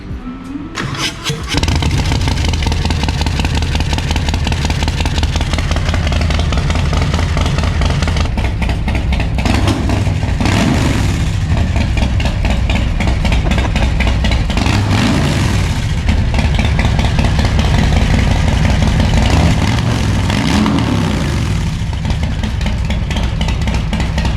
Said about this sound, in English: we're gonna go ahead and give it a crank